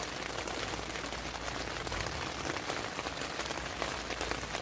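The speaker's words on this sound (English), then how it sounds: "As you can hear, it is raining." Steady rain falling at a campsite, a dense even hiss of drops on a surface, continuous and unchanging throughout with no voices.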